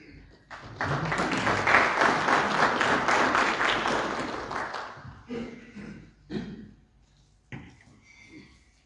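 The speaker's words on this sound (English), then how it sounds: "Let's clap hands for him once again" Audience applauds at a stakeholder consultation meeting on a draft climate change bill, a sustained burst of clapping for about four seconds that fades out into scattered claps and room noise.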